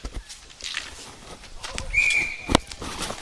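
A referee blows a sharp, sustained whistle at a D1 championship lacrosse game, cutting through a noisy rink atmosphere with scattered bangs and crowd sounds around it.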